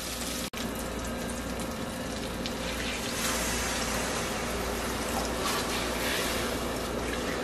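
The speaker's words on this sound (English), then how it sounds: "And now we're going to add our water." Water pours steadily into a pot of rice, a continuous rushing splash at moderate level with one brief click near the start, no talking.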